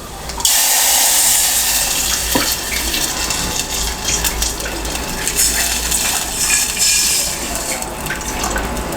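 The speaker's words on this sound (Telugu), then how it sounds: "ఇప్పుడు వాటర్ పోసేసుకోవాలి" Water pours into a pan for tomato and dry mango rasam with cumin, fenugreek and dried red chillies, a steady close gush and splash running the whole time with a few small clinks.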